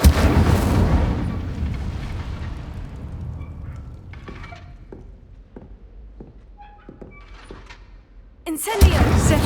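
The Incendio fire spell is cast in Hogwarts Legacy, a loud whooshing blast that decays slowly, followed by scattered sharp knocks and crackles, then another burst of fire near the end.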